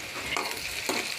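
Potatoes fry with chili paste in a pan, giving a steady close sizzle with two quick scraping stirs.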